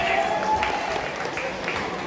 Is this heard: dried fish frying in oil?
no